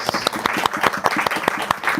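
A room of listeners applauds an author at an evening book event, a crisp, lively burst of individual hand claps that stays close and even for two seconds.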